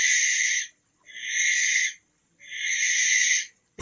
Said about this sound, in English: Here's another owl. Who's making that sound?